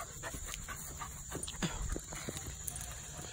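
A hunting dog works a deer trail outdoors, panting and sniffing close by in short irregular bursts over a faint steady background hum.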